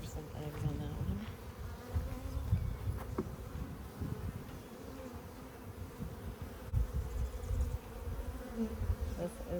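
Honeybees buzz steadily around an open hive during a spring inspection, a dense, continuous close-up drone with individual bees passing near, and a voice speaks briefly over it.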